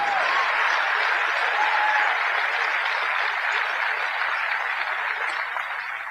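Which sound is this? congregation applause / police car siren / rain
congregation applause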